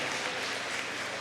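Dense, steady crowd applause at a tribute event for Sory Kandia Kouyaté, a continuous wash of many hands clapping at moderate loudness with no break.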